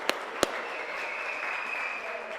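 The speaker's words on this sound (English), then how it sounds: "give a big round of applause for both players" Applause after a table tennis match at a European club cup tie fills the space as a steady, moderately loud crowd clap, with two sharp isolated claps near the start and no voices.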